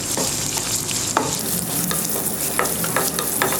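Sliced onion sautéing in melted ghee for vegetable pulao, a dense continuous sizzle broken by repeated quick scraping stir strokes, close and loud.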